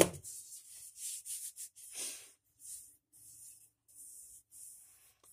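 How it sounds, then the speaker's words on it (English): A rusty old claw hammer is sanded by hand in short, rough rubbing strokes with brief pauses between them, close up and fairly quiet, with no talking. "So, go back to getting the whole thing sanded here."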